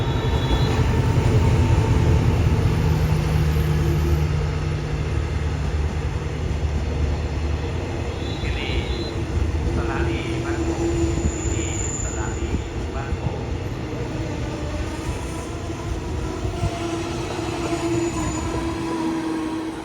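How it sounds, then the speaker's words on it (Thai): Diesel locomotive QSY 5209 hauling a special express train rolls steadily past near a level crossing, a continuous loud rumble of engine and wheels on rails throughout with a faint high whine. "วันนี้ทำขบวนโดยหัวรถจาก QSY 5209นะครับ"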